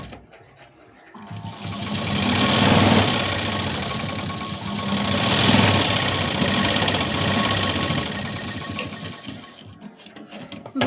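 A sewing machine stitches the second side of a sleeve seam, whirring loudly in two long, continuous bursts that swell and ease, starting after a brief quiet moment and fading near the end.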